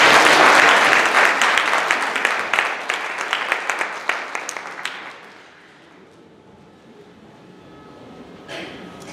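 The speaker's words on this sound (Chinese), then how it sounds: "我们拍手欢迎" A church congregation applauds to welcome a visiting pastor back from Taiwan, loud dense clapping that fades out after about five seconds, leaving a quiet room with a faint murmur.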